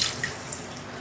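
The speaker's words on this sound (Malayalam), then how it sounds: "കുറച്ചുകൂടി വെള്ളം ഒഴിച്ച് കൊടുക്കുക. ഇത് മുങ്ങുന്ന രീതിയിൽ വെള്ളം വേണം." Water pours steadily into a pan holding frozen fish, a close, continuous running splash like a tap stream with no voices over it.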